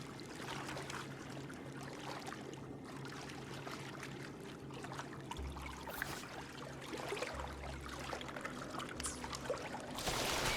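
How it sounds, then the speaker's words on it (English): Rising floodwater rushes in Wuthering Waves as a steady broad roar with pouring, trickling texture, growing louder and harsher toward the end over low droning music; no voices. "Another water rise is coming up."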